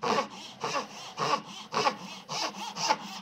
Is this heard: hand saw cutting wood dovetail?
yes